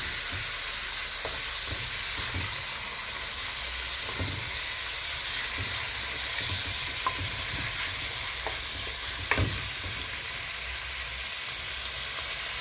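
Pork frying in a pan is stirred continuously, a steady sizzle under irregular scraping and clinking of the utensil against the pan, close and moderately loud.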